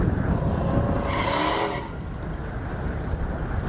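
A Mercedes and a Camaro run hard down an airport airstrip drag strip, a loud engine roar with a rising whine that sweeps past and fades after about two seconds into a lingering rumble.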